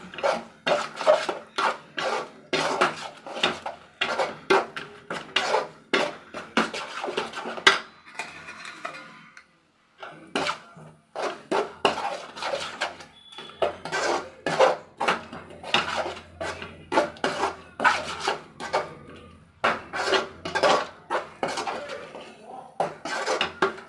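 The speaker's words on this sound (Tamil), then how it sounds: "கருவேப்பிலை கொத்தமல்லி போட்டாச்சு நல்லா மிக்ஸ் ஆயிடுச்சு" A spoon scrapes and clanks against a pan as curry leaves and coriander are mixed in, in quick rhythmic bursts of metallic strokes broken by a couple of short pauses, close and fairly loud.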